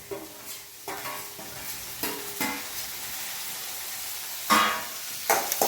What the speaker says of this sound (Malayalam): സാമ്പാറിന് കടുക് താളിക്കുകയാണല്ലേ